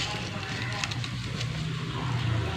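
Mustard seeds land in hot oil and set off a steady sizzle with a few sharp crackles and pops, close and moderately loud.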